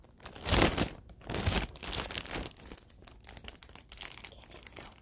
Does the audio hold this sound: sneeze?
no